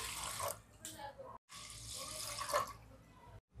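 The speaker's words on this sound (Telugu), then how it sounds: "తర్వాత మీరు 1 గ్లాస్కి బియ్యానికి 2 గ్లాసులు వాటర్ని పోసుకోవాలి" Water poured into washed rice for a fish dum biryani, a gushing pour from a tap that stops and restarts in a few splashy bursts, with a voice talking over it.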